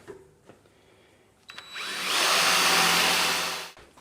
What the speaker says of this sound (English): I'm going to drill a hole to put our keeper screws in